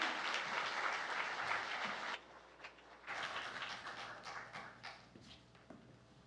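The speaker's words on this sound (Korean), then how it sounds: "우리 목사님께 큰 박수로 환영의 박수로 맞이하도록 하겠습니다" A church congregation at a Korean Sunday morning service applauds to welcome the pastor, loud clapping that dips briefly, then returns and gradually fades out.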